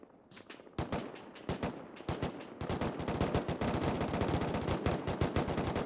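Rapid video-game gunfire in a Rustoria tournament, sporadic shots at first building into dense automatic bursts, loud and close throughout.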